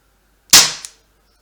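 A single sharp airsoft shot of a plastic ball fired through a chronograph: one crisp, loud snap followed by a brief second tick, then silence.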